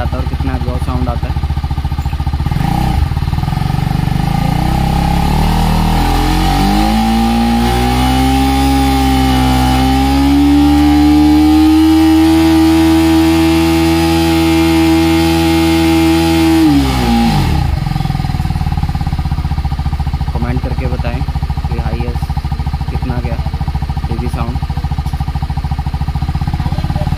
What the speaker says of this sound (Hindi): अब हम आपको इसका थ्रॉटल हाई करके दिखाएंगे धीरे धीरे कि कितने तक जाता है और कितना एग्जॉस्ट साउंड आता है.